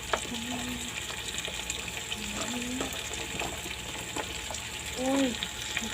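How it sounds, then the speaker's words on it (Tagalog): Squash pieces dropped into a hot frying pan for chicken and vegetable atchara, giving a steady sizzle with scraping and stirring clatter and a louder burst near the end, with a voice speaking over it. "ilagay na natin ang kalabasa"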